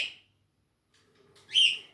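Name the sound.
pet parrots calling in their cages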